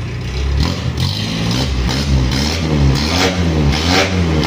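A Mitsubishi L300 diesel engine with an upgraded final gear ratio and a 12mm rotor head revs hard, its note rising and falling in repeated surges, loud and close, with no speech.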